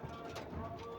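Pigeons cooing in a loft, a low soft coo rising briefly among faint background noise, close and gentle, with no speech over it.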